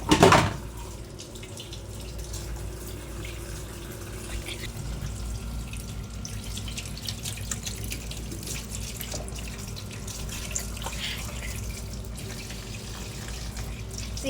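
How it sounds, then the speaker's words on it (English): Tap water runs steadily over a scrubbed kitchen exhaust filter in a sink, a continuous close splashing wash after a brief louder gush at the start. "After scrubbing thoroughly, we wash it."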